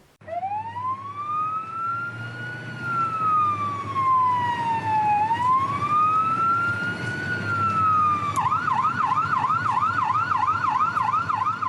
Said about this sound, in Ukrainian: чи пропускають карету швидкої допомоги, коли та рухається на виклик з сиренами та мигалками